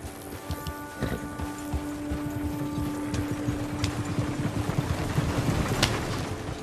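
Steady clip-clop of a single horse's hooves pulling a buggy in Red Dead Redemption 2, a close, even rhythmic trot over wind and ambient outdoor noise with faint creaking.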